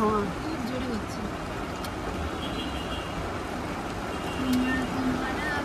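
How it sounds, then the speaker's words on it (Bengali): Heavy rain pours steadily outside a parked car, a dense even hiss of falling water close around, with faint voices murmuring in the background. "ভালোই বৃষ্টি হচ্ছে।"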